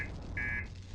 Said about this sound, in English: So that buzzer means your reactor is not doing well.